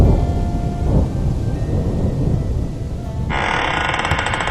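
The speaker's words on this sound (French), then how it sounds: "Cette porte se referme brutalement et il y a un violent coup de tonnerre." A thunderclap effect for a Breton folk tale: a loud, deep rumbling roll of thunder with rain-like hiss, shifting to a brighter crackling texture near the end.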